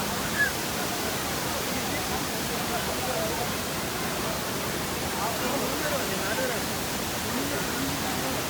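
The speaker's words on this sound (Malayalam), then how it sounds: "വിശാലമായ പാറകൾക്ക് മുകളിലൂടെ കാവേരി നദി 70 അടി താഴേക്ക് പതിക്കുന്നത് മനോഹരമായ കാഴ്ചയാണ്." Abbey Falls, where the Kaveri river drops about 70 feet over broad rocks, a dense unbroken roar of falling water, loud and steady throughout.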